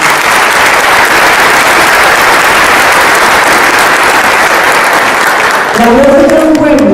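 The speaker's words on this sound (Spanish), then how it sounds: "Para él un fuerte aplauso," Audience applause at an anniversary special for a radio station, a dense, loud, continuous wash of clapping that holds steady for the whole stretch, with a voice starting over it near the end.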